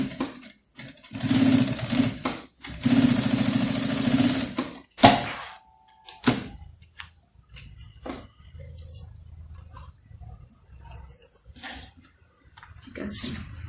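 A sewing machine runs a topstitch along bias binding on a handmade jewelry holder for a handbag, with two sustained whirring bursts followed by short stop-start stitching and clicks, while someone speaks in Portuguese between runs.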